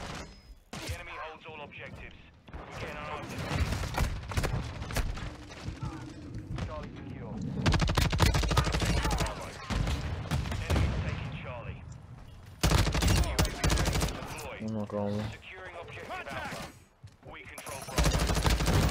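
Dual pistols firing in Call of Duty: Modern Warfare II multiplayer, with repeated rapid shots in bursts throughout amid other game sounds, with a player talking over them.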